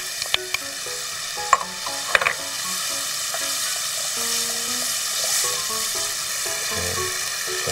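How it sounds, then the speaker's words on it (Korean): Kimchi stir-fried in a pan, a steady frying sizzle with scraping and clinks of a utensil against the pan at several points, close and continuous with no talk. "김치도 좀 같이 볶아줄게요"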